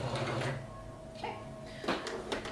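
A sewing machine locking stitches at zero stitch length on a bedsheet robe, a few short mechanical bursts of needle clatter, close up and alone.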